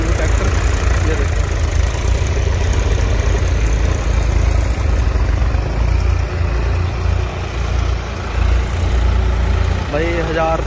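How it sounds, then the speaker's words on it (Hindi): A tractor engine runs steadily and loudly at close range, holding around 1500 RPM while powering a water pump near marshy ground, with a continuous low rumble throughout. "कितना बढ़िया चल रहा ट्रैक्टर"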